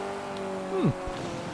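Renault Clio engine racing around an ice circuit in Forza Horizon 4, a steady harmonic drone that briefly rises in loudness and then sweeps down in pitch before settling back.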